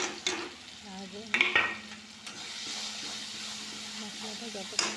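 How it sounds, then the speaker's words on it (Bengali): Masala being stirred and fried in oil in a pan while cooking chana ghugni, a steady soft sizzle with scraping stir strokes and a few clinks, under a voice speaking. "মশলাটা যতক্ষণ না তেল ছাড়িয়ে আসবে ততক্ষণ পর্যন্ত আমাদেরকে এটা ভালো করে নাড়তে হবে।"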